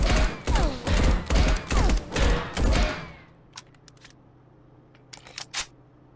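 Six evenly spaced short bursts from a gun set to burst fire in the Marauders game while aiming down sights, loud and punchy, then fading to near silence with a few faint clicks.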